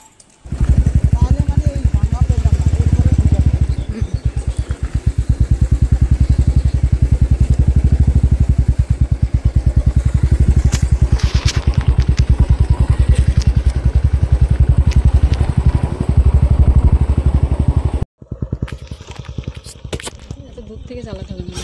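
A motorcycle engine runs close and loud with a steady rapid thrum for most of the ride, then cuts out abruptly and is followed by quieter clatter and talk.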